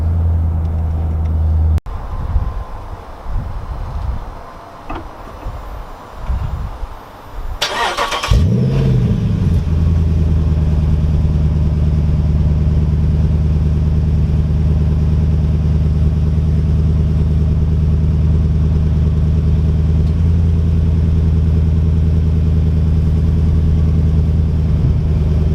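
A 2010 Jeep Grand Cherokee SRT8 cranks briefly, fires with a sharp burst, then settles into a deep, loud, steady idle rumble that carries on for many seconds, recorded close by on a cold day.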